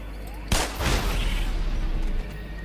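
A sudden loud explosion in Black Mesa hits hard, then a second blast follows, and a heavy rumbling roar lingers for a couple of seconds.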